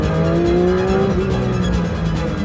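The 4-litre naturally aspirated flat six of a 2024 Porsche 911 S/T howls loudly and steadily at high revs, its pitch rising through a gear, with dense raspy engine noise throughout.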